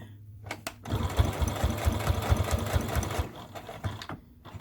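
A sewing machine stitches through a dog leash, its motor running in a fast, steady rhythmic whir for a few seconds before stopping, loud and close.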